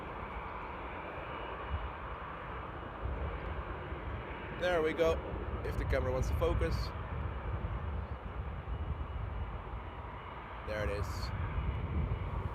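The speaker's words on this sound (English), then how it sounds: "the first proper plane for today is going to be Air France flight 53 A350-900 coming in from Washington" An Air France Airbus A350-900 airliner arriving from Washington at Paris Charles de Gaulle makes a steady, distant engine roar that swells gradually, while someone talks intermittently over it.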